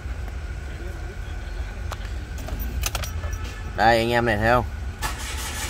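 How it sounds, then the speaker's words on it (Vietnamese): A 2018 Mitsubishi Attrage with automatic transmission fires up and settles into a low, steady engine rumble close by, with a few faint clicks before someone speaks briefly over the idle. "bây giờ em để nổ máy lên cho anh em xem này"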